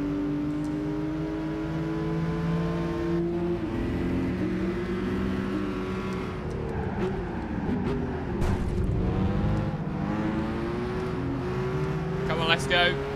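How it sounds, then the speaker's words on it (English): A Dodge Ram truck in the Gran Turismo 5 racing game, its engine droning and revving steadily with rising and falling pitch, loud and continuous throughout. "So we're in the Dodge Ram."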